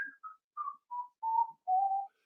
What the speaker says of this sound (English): I'm going to walk away and whistle.